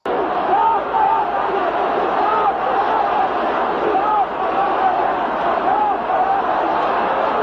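A dense crowd roars and chants at an Iranian revolution street rally, a loud, steady wall of voices with rising shouts and whistles throughout.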